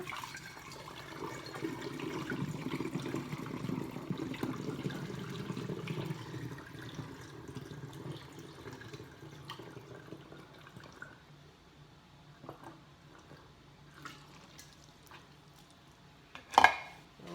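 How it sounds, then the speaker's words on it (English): Lemonade pouring steadily into a bottle with a gurgling, splashing flow that gradually tapers off, followed by a few faint knocks and a sharp clunk near the end. "And just pour it."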